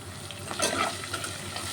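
Ginger garlic paste and turmeric fry in hot oil with a close, steady sizzle and a brief stirring scrape partway through.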